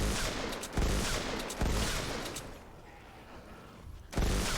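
Sniper rifle fire in Fortnite Save the World comes as a few sharp, loud shots spaced about a second apart, each with a short booming tail, then a quieter stretch before a final shot.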